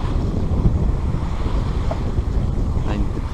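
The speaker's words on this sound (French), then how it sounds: "Il y a un petit peu de houle." Wind buffets the microphone while sea swell washes and sloshes against a sailing boat under way in light wind, a steady close roar of rushing air and water throughout.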